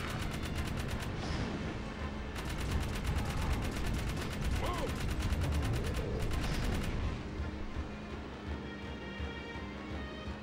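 Turret gunfire from the Jak 3 video game, with dense bursts of rapid shots and booming impacts running continuously under game sound, while people talk over it.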